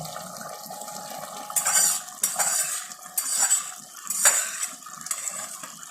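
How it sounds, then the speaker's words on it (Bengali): Fried potato pieces tumbling into chicken cooking in a clay pot, with several clattering scrapes of a utensil against the pot and a faint sizzle underneath, close and moderately loud. "এবার আমরা সেই ভেজে রাখা আলুটা দিয়ে দেবো"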